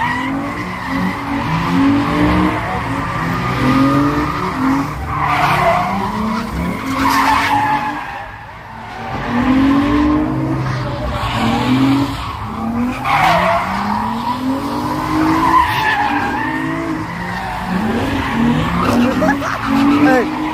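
Cars drifting at a street takeover, tires squealing in long rising and falling screeches that overlap almost continuously for about twenty seconds, loud and fairly close, with engines revving underneath and voices of a crowd mixed in.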